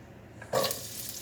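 Vegetables for caponata drop into a hot pan and burst into a sudden sizzle that holds steady and fairly quiet for a moment.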